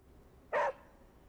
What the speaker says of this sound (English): What a good puppy.